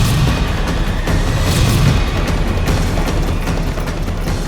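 Small firecrackers go off in a dense, continuous crackle of bangs and pops, loud and close, with no clear gaps between bursts.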